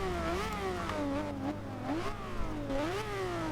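The 1030-horsepower engine of a 2010 Aston Martin One-77 in Forza Horizon 2 revs three times in a row, each rev rising and falling in pitch over a constant drone, loud and near with no talking.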